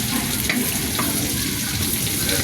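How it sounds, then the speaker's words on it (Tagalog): Onion sautés in a pan with a dense, constant hiss of frying oil and light shuffling from stirring. The sizzle is close and steady throughout the brief moment, with no talking. "Lutuin ko lang saglit tong sibuyas."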